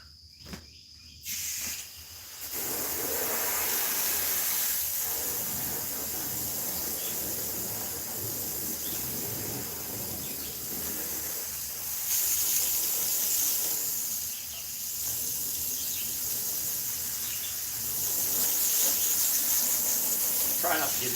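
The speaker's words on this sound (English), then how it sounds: "Then all you do is just rinse it top down." A hose sprays water down the hood of a Sonoma GT car, a continuous close hiss of spray that swells and eases for about twenty seconds after a brief quiet start.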